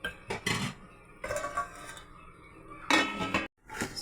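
A metal lid closes on a cooking pot of mushroom pulao, giving several clanking metallic knocks and scrapes in short bursts, close by.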